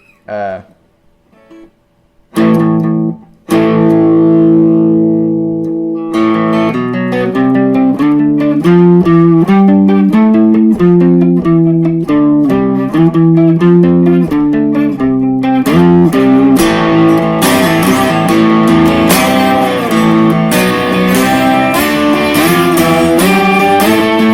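A few clean guitar notes give way to a thick, distorted electric guitar riff from a song, chugging chords growing busier and louder toward the end.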